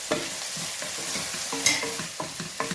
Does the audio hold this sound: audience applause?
no